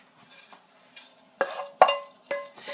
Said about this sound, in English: now I'm going to add in my shrimp